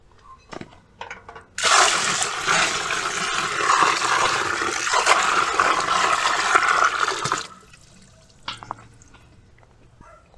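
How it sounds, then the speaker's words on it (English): A sustained rush of water poured from a bucket into a pond, loud and close, for about six seconds, then stops, leaving faint drips and splashes. "we're going to pour the bucket of water in the pond"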